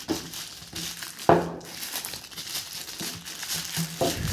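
Plastic packaging around a Mivi Roam 2 speaker crinkles and crumples close by in a series of sharp rustles and crackles, with one louder tearing crunch early on.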